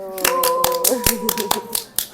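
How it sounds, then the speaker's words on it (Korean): Group of young women in a room clapping their hands in a quick uneven burst of sharp claps, with a voice and laughter mixed in. "박수"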